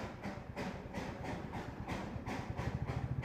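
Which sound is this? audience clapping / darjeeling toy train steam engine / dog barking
darjeeling toy train steam engine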